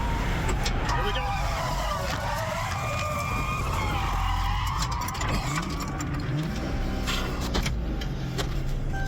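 A police car pushes another car into a skid at about 60 mph, heard from inside the car being spun: a loud, steady roar of engine and road noise with a brief rising tire squeal midway and voices underneath.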